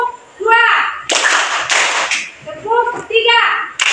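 A high-school class of students claps together in short, sharp bursts of unison hand claps, set between stretches of young voices chanting and talking.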